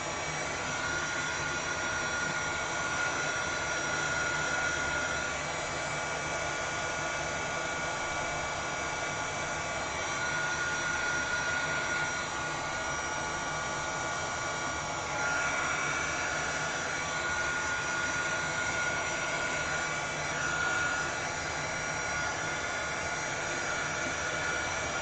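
A hair dryer blows continuously for the whole stretch, quick-drying something near a computer; the airflow roar is loud, steady and close, with no talking.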